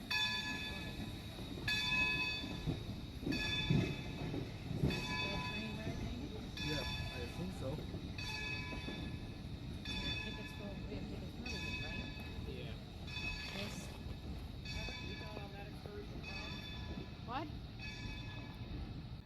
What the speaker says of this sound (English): As the train backs up, it passes a Canadian Pacific Jubilee.